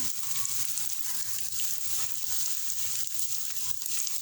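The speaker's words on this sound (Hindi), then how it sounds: "अब उसमें हम स्लाइस जो है वो हम फ्राई कर लेते हैं" Bread slices for shahi tukray frying in oil in a frying pan, a steady close hiss and sizzle that runs continuously without pause.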